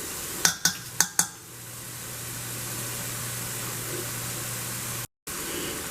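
Garlic gets stirred into a pan of beef patty filling, a few sharp clinks of a utensil against the pan followed by a low steady sizzle, close and fairly quiet.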